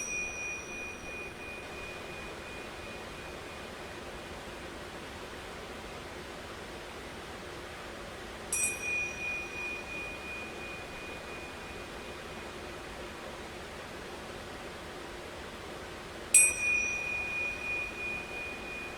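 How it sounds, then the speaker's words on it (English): Yoga bells struck twice in a quiet room, each strike a bright ringing tone that lingers and slowly fades over several seconds before the next. "I'm going to ring these yoga bells 3 times."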